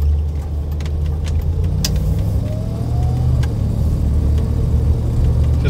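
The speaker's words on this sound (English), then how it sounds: "Just listen to that V8 burble." A Triumph Stag's V8 idles with a deep, steady, loud burble from close by, a continuous low rumble with no voices over it.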